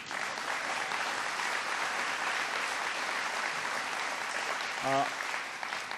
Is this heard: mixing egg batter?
no